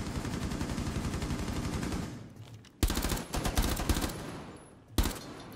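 Rainbow Six Siege gameplay gunfire: fast automatic shots rattle steadily, then sharper, louder bursts break in at intervals, all at moderate volume.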